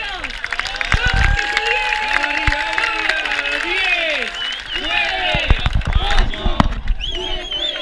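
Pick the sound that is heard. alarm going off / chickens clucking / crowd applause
crowd applause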